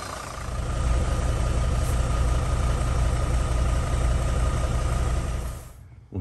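A Mercedes T1N Sprinter van's engine idles with a steady, low rumble continuously for several seconds, then cuts off abruptly near the end.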